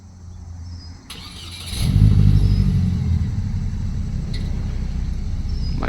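A $300 truck pulls away; its engine catches and revs up loudly partway through, then settles into a steady, rough mid-pitched drone that fades slightly as it drives off.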